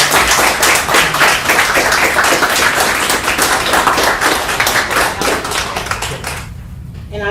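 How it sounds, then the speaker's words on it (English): An audience at a city council meeting applauds steadily for a long-serving employee, sustained close clapping that fades out near the end. "So if y'all don't mind giving him a round of applause for 33"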